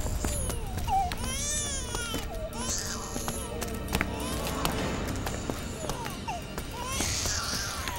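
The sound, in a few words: baby crying, heard from a well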